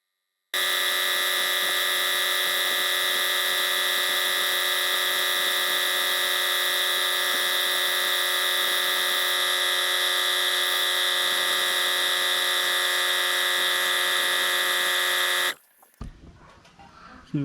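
A repaired air compressor with a newly fixed drive pulley runs steadily up to its 120 psi cutoff, a loud continuous high-pitched whine and hum that holds for about fifteen seconds, then stops abruptly, leaving only faint rattles.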